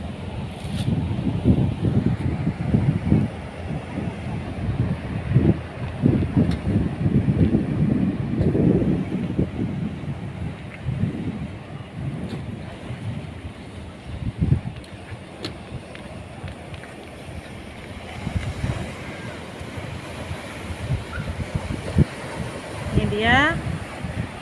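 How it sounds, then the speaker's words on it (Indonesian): A beach breeze at Kuala Daya beach in Lamno, Aceh Jaya, gusting steadily across an open shore and buffeting the microphone with a low, rumbling roar that rises and falls for the whole stretch. "Kita nikmati dulu nih semilir angin pantai."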